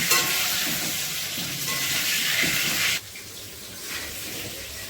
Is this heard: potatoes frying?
yes